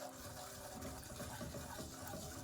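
Water poured into a pan of sugar for caramel sauce gives a steady, close, splashy running-liquid rush with no pauses.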